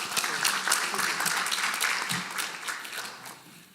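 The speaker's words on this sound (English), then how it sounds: "The other keynote speaker didn't get that applause at the beginning" Audience applause greeting a keynote speaker at a scientific conference, a dense crackle of clapping at moderate level that slowly thins toward the end.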